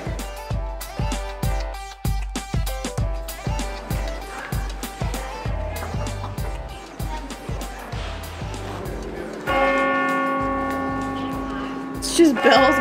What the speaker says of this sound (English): It's just bells going off from all over.